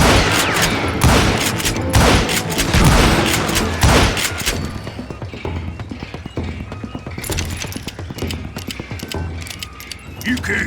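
Gunfire in the Wild West shooter Call of Juarez Gunslinger: rapid, loud shots rattle in quick bursts, thinning to scattered cracks later. Game voices talk beneath the shooting.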